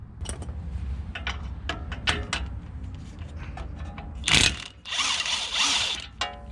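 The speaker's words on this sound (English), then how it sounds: "Now we're going to use a 21mm socket to remove the nut on our outer tie rod." A ratchet with a 21mm socket works the outer tie rod nut during a CV axle job on a 2009-2018 Ram 1500, giving quick clicking bursts mixed with metallic clanks and a louder spinning rattle near the end.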